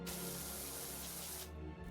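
A pressure washer sprays in a loud, steady hiss for about a second and a half, then cuts off abruptly, leaving a faint low hum.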